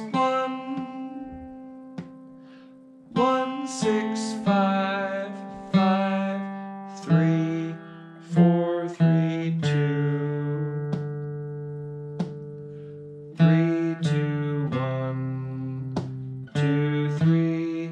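Bluegrass melody flatpicked on an acoustic guitar, clear single-note lines with plucked attacks and ringing decays, played alone and fairly close with no talking.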